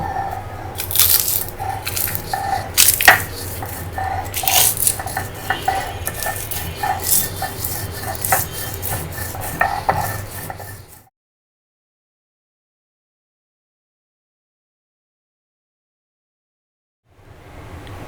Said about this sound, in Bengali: আর একটু লবণ এখন পাটায় পিষে নেব